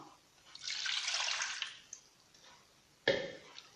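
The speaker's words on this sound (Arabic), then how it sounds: "اذا نحكم كسرونه، ندير فيها الماء" Water is poured into a saucepan to make chocolate sauce, a soft close splashing stream lasting about a second, followed by faint drips and a sharper knock of the pan.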